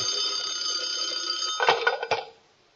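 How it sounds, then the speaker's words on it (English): An old telephone bell rings with a bright metallic jangle that holds steadily, then breaks into a few clattering strikes before stopping. "Suddenly the phone rang."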